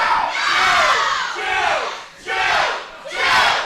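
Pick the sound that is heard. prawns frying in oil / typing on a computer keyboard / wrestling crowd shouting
wrestling crowd shouting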